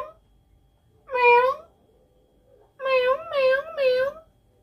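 A voice imitates a cat, one drawn-out meow followed after a pause by three quick meows in a row, close and clear.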